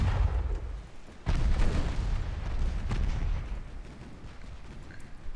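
Heavy naval guns firing at an enemy ship in Ultimate Admiral Dreadnoughts, deep booming salvos with a sharp blast just over a second in, then rolling rumble and scattered further reports.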